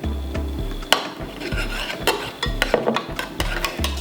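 A spoon stirs medicinal mushroom powder, a turmeric-like blend, into a drink, scraping and clinking against the cup in a quick repeated rhythm, close and fairly loud, with sharp taps standing out.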